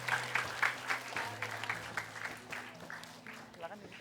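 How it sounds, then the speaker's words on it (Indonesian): Studio audience on an Indonesian comedy TV show applauds in bursts, with moderate clapping mixed with voices, music and background noise. "Sekali lagi tepuk tangan untuk Ibu Erna."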